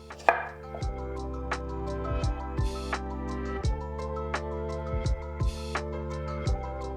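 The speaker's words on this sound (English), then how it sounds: "I have all of my potatoes chopped up" Small baby potatoes being chopped with a knife on a board, a string of sharp close thuds at an uneven, unhurried rhythm with soft scraping between cuts.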